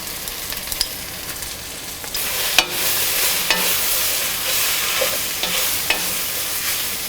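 Coriander powder being stirred into duck roast masala frying in a pan: a steady, close sizzle with scraping spoon strokes and a few sharp knocks against the pan.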